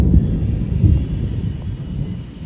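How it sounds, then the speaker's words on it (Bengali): Low, heavy thunder rolls on through a cloudy pre-rain sky, a continuous deep rumble with no voices over it. "আর মেঘ ডাকছে, বৃষ্টি তো হবেই।"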